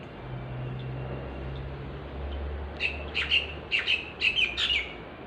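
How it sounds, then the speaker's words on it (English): Birds chirp outside on a street, a quick series of bright tweets bunching together in the second half over a low, steady traffic hum. "Even the birds are extra loud."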